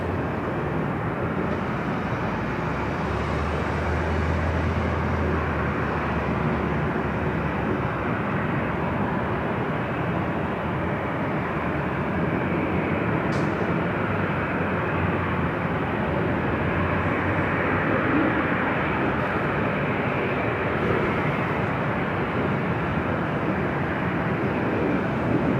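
A late-running airliner arriving from Seoul at Los Angeles International Airport, heard as a steady, broad jet roar that stays loud and continuous, with no voices.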